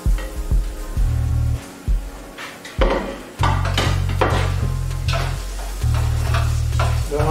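Chopped onion and garlic sautéing in olive oil in a pan for seafood paella, a steady close sizzle broken by several bursts of stirring and scraping, with no talk over it.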